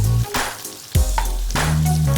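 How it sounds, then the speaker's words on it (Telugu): Onion pieces with turmeric frying in oil for an okra pulusu, a steady sizzle broken by a few louder bursts and clatters as the pan is stirred. "ఉల్లిపాయ ముక్కలు కొద్దిగా ఫ్రై అయిన తర్వాత"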